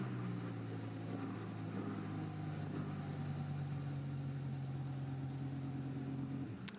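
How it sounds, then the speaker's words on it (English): A GT2 race car engine at Spa idles with a steady low burble for several seconds, then cuts out abruptly near the end, with no voices heard. "The engine briefly burbles away and then is switched off again"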